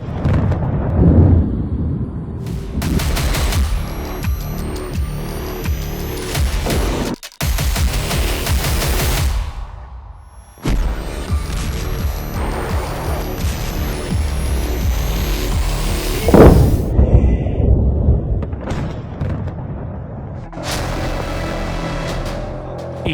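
Iranian missiles explode at American military bases, producing loud, rumbling blasts with crackling debris that follow one another closely, alone and with no voices.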